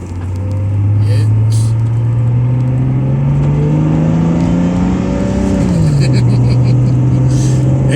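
A 2005 GMC Envoy pulls out of a home driveway onto the road and accelerates. The engine tone climbs steadily and loudly, then drops briefly as the transmission shifts, and the engine keeps pulling afterward.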